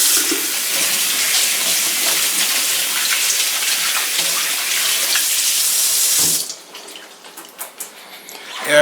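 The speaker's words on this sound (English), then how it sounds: "I'm gonna wash my hands." Running tap water splashes steadily over hands being washed while preparing jerk steak, a loud close hiss for several seconds before the flow stops, leaving a few faint drips and clatters.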